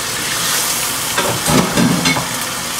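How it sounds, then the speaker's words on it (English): Turkey, pre-boiled crayfish and onions cook in a pot for Nigerian vegetable soup, with a loud, steady hiss of frying. A few heavier stirring scrapes and bumps rise briefly midway. "I'm adding my turkey in as well and stir it in the process"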